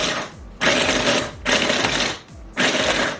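A small kitchen mixer runs in three loud, whirring bursts with short pauses between, probably blending a Shakeology shake alongside an apple crisp recipe.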